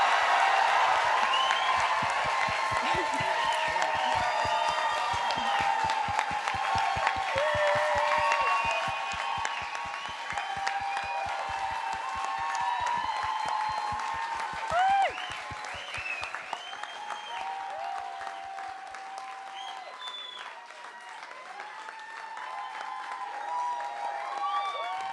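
Applause from an audience for Diane Abbott at a political gathering, a long, dense wash of many hands clapping with scattered cheers and whoops, loud at first and slowly thinning toward the end.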